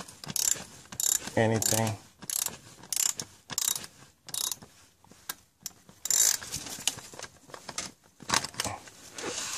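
A ratchet tightens bolts on a Mercedes thermostat housing, giving short bursts of rapid clicking separated by pauses. A brief spoken word is heard near the start.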